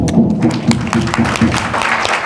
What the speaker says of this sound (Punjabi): ਬਹੁਤ ਤਾੜੀ ਮਾਰ ਦਿਓ ਯਾਰ